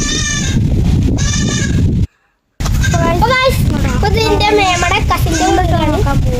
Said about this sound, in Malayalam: അപ്പൊ ഇവിടെ കൊറേ ആടുകളുണ്ട്